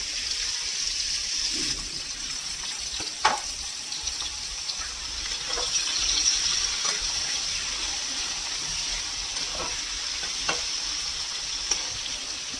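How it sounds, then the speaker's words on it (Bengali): Sliced radish tossed with black cumin seeds into a pan, giving a steady soft sizzle with occasional stirring scrapes and clicks, close and moderately loud, no voices. "কালো জিরে, আর এই যে মূলোগুলো কেটেছিলাম সেইটা দিয়ে দিলাম"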